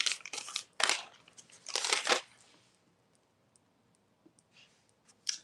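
A piece of paper handled and crinkled indoors, with bursts of close crinkling and rustling in the first two seconds, then faint scattered ticks and a brief final rustle.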